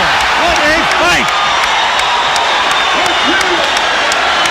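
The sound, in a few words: boxing crowd cheering at end of Leonard vs Hearns fight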